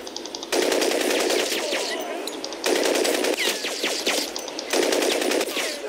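Automatic weapon fire in the video game Crysis, three long rattling bursts separated by short pauses, loud and close with sharp rapid reports.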